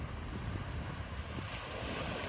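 Sea waves wash steadily on Ramberg beach in Lofoten under a continuous broadband roar with some wind noise against the microphone, and no voices.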